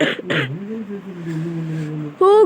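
A couple of harsh, close coughs at the start, followed by a quieter strained vocal sound and another burst at the end.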